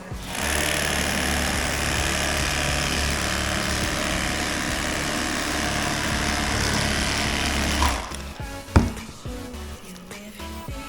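A Bubba electric fillet knife buzzes steadily through a walleye for about eight seconds, a close, continuous motor whine that stops abruptly, followed by a few soft handling knocks.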